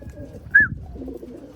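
A black velvet racing pigeon gives a single short coo, close and clear over a low background murmur.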